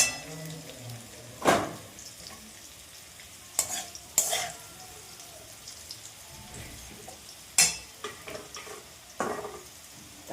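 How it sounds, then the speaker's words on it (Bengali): Potatoes fry in mustard oil with salt and turmeric, giving a soft sizzle broken by a few sharp stirring scrapes and utensil knocks against the pan. "এবার সরিষা তেলে আলু ভাজা রেখে একটু লবণ আর হলুদ দিচ্ছি"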